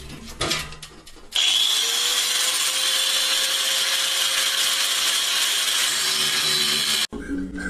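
A loud, steady power-tool cutting whine runs for about six seconds with a harsh metallic screech as it cuts aluminum for a bracket, preceded by brief handling noises and ending abruptly.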